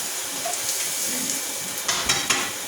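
Food sears in a hot pan with a dense, steady sizzle and hiss, close and loud, with a few louder crackling pops near the end.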